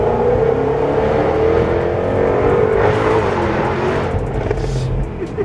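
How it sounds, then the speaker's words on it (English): A Jaguar F-Type accelerates hard, its engine roaring loud and close in one continuous rising surge that swells toward the end. "Showing off its brutal acceleration on a vlog with Roman Atwood, we get a taste of what this road beast has to offer."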